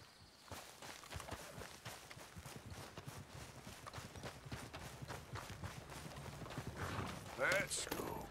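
Steady hoofbeats of a horse in the video game Red Dead Redemption 2 clip-clop at a walking pace throughout, fairly close, with a brief burst of louder noise near the end.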